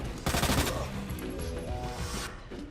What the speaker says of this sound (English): So then, there's a lot of shooting in the leg here.